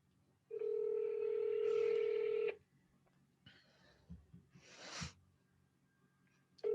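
A phone number being dialed on speakerphone, with a loud steady tone lasting about two seconds followed by fainter tones and short bursts of noise.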